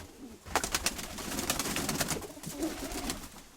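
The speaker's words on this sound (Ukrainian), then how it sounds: "Ну молода голубка." A young dove coos in a run of soft, rhythmic calls, close and clear against a quiet background with no talking.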